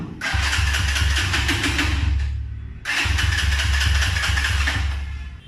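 A motorcycle fitted with an anti-theft device is cranked twice by its starter, each long mechanical churning burst ending with a short gap and the engine never catching, close and loud.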